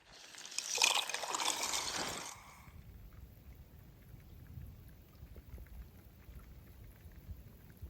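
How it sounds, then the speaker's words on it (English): At a backcountry camp in the Norse Peak Wilderness, a burst of heavy rain roars for about two seconds, then settles into a steadier, softer patter of falling rain with low rumbling underneath. "the rain has gotten a little heavier"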